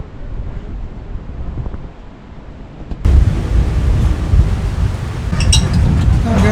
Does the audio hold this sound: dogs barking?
no